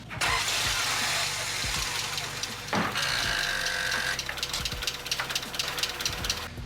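Honda Integra engine running rough after a head gasket change, starting up and idling close by with an uneven, loping rumble and fluctuating revs, heard alone without talk.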